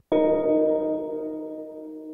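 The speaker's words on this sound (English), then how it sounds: "I went through the folders and found a big reverb called Deep Cavern here" A single piano chord struck once on a Pianoteq instrument, swelling into a vast, cavernous reverb that hangs and slowly decays, with no other sounds.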